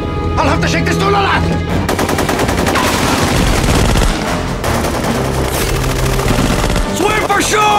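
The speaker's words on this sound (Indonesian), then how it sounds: "Jaka yang tengah fokus baku tembak dengan pasukan Bang Lahap" A film gunfight erupts in loud, dense automatic gunfire with rapid bursts and heavy booms layered over an intense, continuous action soundtrack.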